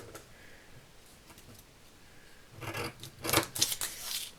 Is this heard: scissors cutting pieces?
yes